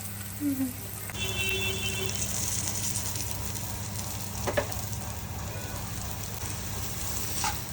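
Coated fish frying in a pan of hot oil, a steady close sizzle with a crackling hiss that holds throughout, marked by a few sharper pops and a brief scrape partway.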